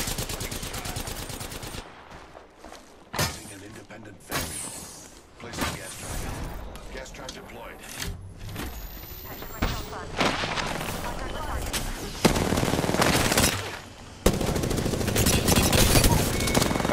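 Gunfire in Apex Legends, bursts of automatic shots and heavy impacts coming in clusters with pauses between, loud and close, with people talking over the shooting.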